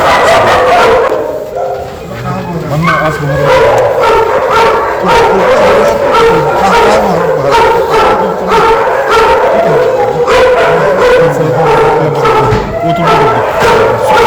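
Many dogs at a stray dog shelter in Yakutsk bark, yip and whimper almost without pause, a loud, overlapping chorus close by with occasional voices mixed in.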